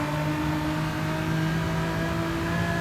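A tuned Renault Avantime 3.0 V6 24V from 2002, pushed to almost 500 horsepower in Gran Turismo 7, revs hard in a steady, loud engine drone with a strong, unbroken harmonic whine and no talking.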